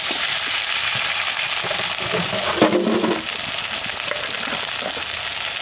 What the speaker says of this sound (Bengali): তো এখানে দেবো কুচনো টমেটো আর আদাটা দিয়ে দেবো।